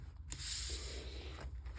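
A spray can hissing in one sustained burst of about a second, quiet and close, used on a coloring book page, with brief soft rustles before and after.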